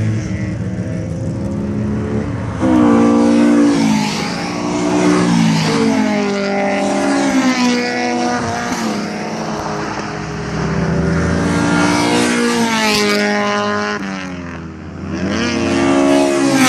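A loud race car engine screams past, its pitch sweeping up and then down as it approaches and passes, with more high-revving passes following.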